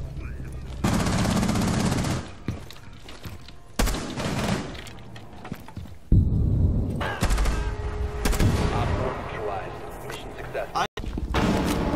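Gunfire in the video game Rainbow Six Siege, loud bursts of automatic weapon fire and sharp single shots crowding one another in close, rapid volleys, with a player talking over parts of the fighting.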